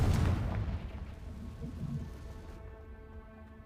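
A Confringo blasting spell explodes in the Hogwarts Legacy video game, a single loud deep boom at the start that rumbles and fades away over a few seconds.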